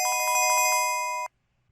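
Incoming-call ringtone from a PT-S120 phone: a bright electronic melody of rapid repeated beeps with steady tones, loud and close, playing alone for over a second before cutting off abruptly into silence.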